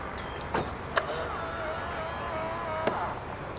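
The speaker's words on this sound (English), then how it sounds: "Press this black button to lock the doors." Keyless lock activation on a 2011 Volvo S40 2.0: a few short clicks and a soft mechanical clunk of the door locks, with a faint motor whine in between, heard close and quiet.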